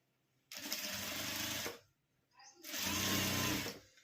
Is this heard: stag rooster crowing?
no